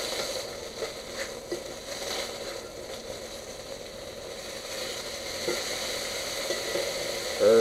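Redfish fries in a pan, giving a continuous, even sizzle and crackle close by, with no talking.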